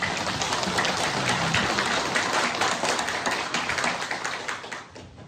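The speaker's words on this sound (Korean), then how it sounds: "하나님께 영광의 박수 올려드립니다." A church congregation claps together in sustained, dense applause that holds steady and then gradually fades toward the end.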